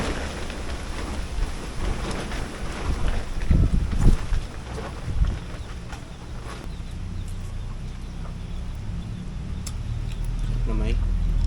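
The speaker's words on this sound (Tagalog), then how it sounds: "Malakas ang hangin, malakas kumain." Strong wind buffets a microphone outdoors on water, a steady low rumble rising toward the end, with a voice talking briefly over it early on.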